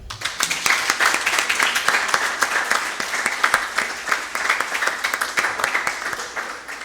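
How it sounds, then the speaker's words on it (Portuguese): Applause at a council session honoring a young girl's fourteenth birthday, a crowd clapping steadily with individual claps audible, close and lively before tapering off. "Por favor, uma salva de palmas a ela."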